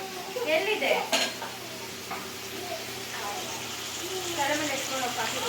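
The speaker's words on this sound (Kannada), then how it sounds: "ಎಣ್ಣೆನಲ್ಲಿ ಬದನೆಕಾಯಿ ಚೆನ್ನಾಗಿ ಫ್ರೈ ಆಗಿದೆ" Eggplant fries in oil while chili powder is stirred in, giving a soft, close sizzle with scraping stirring strokes and light pan clinks, a voice talking over it.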